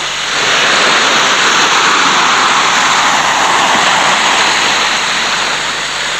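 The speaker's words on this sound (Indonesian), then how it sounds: "Tentanglah ombak." Ocean waves surge where a river mouth meets the sea, a loud, steady roaring wash of surf that fills the whole stretch without a break and with no voices.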